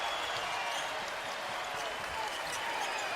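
A college basketball arena crowd cheering for Gonzaga during a game against Baylor, a steady wash of distant crowd noise and cheering with no clear break.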